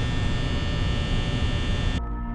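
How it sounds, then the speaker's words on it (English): Office fan hum from the video game Five Nights at Freddy's: a steady, loud electrical drone with a tonal whine that drops away sharply near the end, heard alone. "Office fan humming,"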